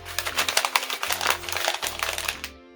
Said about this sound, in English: you can take it and crumple it up